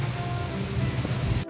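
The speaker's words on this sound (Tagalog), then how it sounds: "So, ayan na yung ulan." Rain falls in a steady patter on a surface, a close and fairly loud continuous wash that cuts off abruptly at the end.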